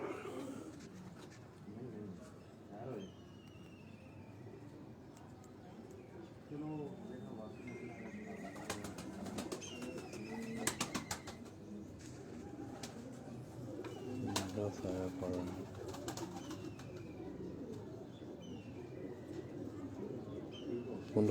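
Pigeons, including a female flying pigeon, coo at a fancier's loft in Dharampura, Lahore, soft rolling calls repeating over a long stretch with people talking nearby and occasional clatter.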